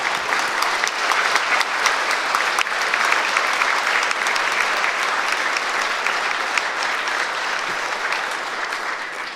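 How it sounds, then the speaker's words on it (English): Sustained, loud applause from an audience at the Kentucky governor's State of the Commonwealth address, a dense wash of clapping that holds steady for the whole stretch, with no speech over it. "Let's give her a big round of applause"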